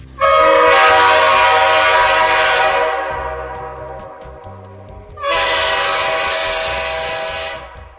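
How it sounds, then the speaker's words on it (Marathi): Three huge steam locomotives sound their horns in two long, loud, blaring blasts, each holding steady for a few seconds before fading, with a short pause between them. "त्या राक्षसी आकाराच्या तीन इंजिनांनी कर्णभेदी भोंगे वाजवले"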